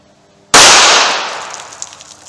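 A single sharp .380 ACP shot from a pocket pistol fired into a Juggernaut box, a loud close crack that rings and decays over about two seconds after a quiet lead-in.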